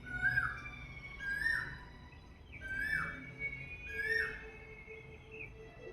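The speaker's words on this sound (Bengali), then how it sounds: "বাইরে আবার কোকিল ডাকছে।" A cuckoo calls outdoors, repeating a clear rising-then-falling whistled note about four times at a steady pace, moderately distant over a faint background hum.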